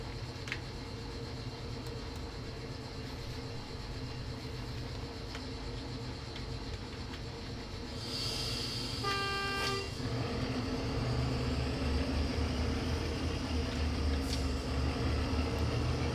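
A locomotive shunting in Train Simulator around a museum yard: steady low engine rumble, then a loud sustained horn blast midway, followed by heavier engine drone as the train works, with no talking.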